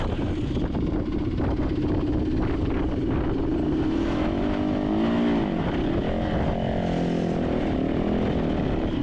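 A motorcycle climbing a rocky trail toward Chuckwalla Peak, its engine droning steadily and close, with pitch wavering as the throttle rises and eases, loud and continuous.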